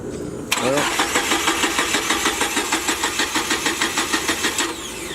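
An old Jeep engine cranks repeatedly without catching, a fast even chugging of the starter that runs for several seconds before stopping.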